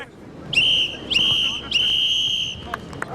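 A referee blows the final whistle at a football match: three loud, shrill blasts, each lasting around a second, with faint crowd noise underneath.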